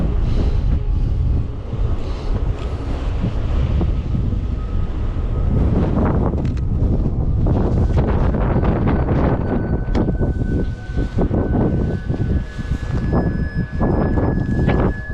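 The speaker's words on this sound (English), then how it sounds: "This fabric flapping in the wind" Fabric flapping and rustling in strong outdoor wind, heard as a continuous rough, buffeting roar with irregular flutters and gusts, loud and close to the microphone.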